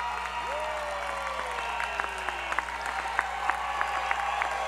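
A standing audience applauds graduates at a 2024 university commencement, a broad, steady wash of clapping with scattered sharper claps rising over a distant speaking voice.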